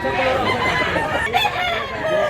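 Roosters and chickens at a gamefowl seller's place in Mantalungon, Cebu, a dense chorus of clucks and crowing close by, continuous and fairly loud throughout.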